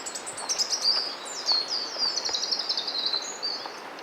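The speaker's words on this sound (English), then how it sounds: "I just love all the sound of the birds and everything, it's lovely." Birds sing in woodland, with a busy overlapping chorus of high chirps and trills continuing throughout against soft background hiss.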